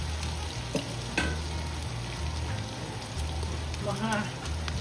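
Pork frying in a pan until crispy for dinuguan, a steady close sizzle with occasional stirring clinks and faint background hum.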